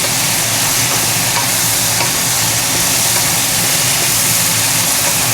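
Cauliflower and potato pieces fry loudly in a pan, a dense continuous sizzle with scraping stirring, close and unbroken throughout.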